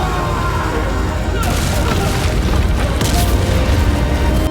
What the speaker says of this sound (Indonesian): gak lama mereka pun meledakkan diri